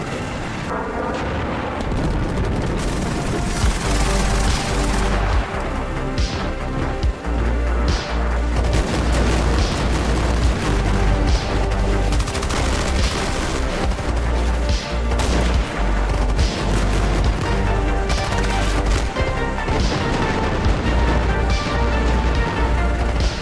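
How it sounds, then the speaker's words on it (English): Airstrikes and gunfire on a battlefield in the Armored Brigade II wargame: a dense, loud barrage of repeated booms and shots hammering continuously for over twenty seconds, with heavy low rumble between blasts and no talk. "More airstrikes on my right flank as my anti-air struggles to even get a shot off."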